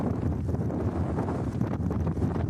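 Strong mountain wind in the Serra Catarinense highlands, with gusts up to 130 km/h, buffets the microphone as a steady, dense, low roar with no voices.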